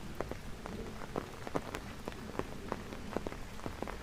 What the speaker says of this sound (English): Kind of pretty in the rain, yeah.